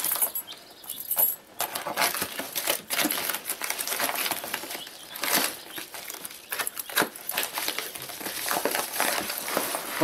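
Rummaging through a heavy bag of mixed-size screws, a continuous close metallic clatter and crinkle of bag and hardware, with no talking.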